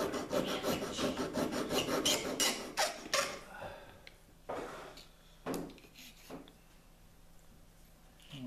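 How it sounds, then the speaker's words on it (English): Hand file rasping against a wing retract brace, a run of quick rhythmic strokes at first, then slower, spaced scrapes close by. "so I'm gonna file it down just to make sure"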